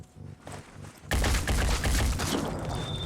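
Gunfire in the video game Phoenix Point, as a soldier takes a shot aimed at an enemy's head: after a quiet lead-in, a loud, sustained burst of rapid, cracking shots fills the rest of the moment, close and dense.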